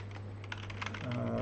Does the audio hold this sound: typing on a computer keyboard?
yes